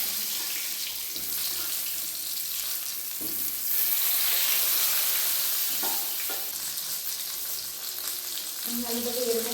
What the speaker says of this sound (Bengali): বেগুনগুলোকে আমি এইভাবে ভেজে নিচ্ছি।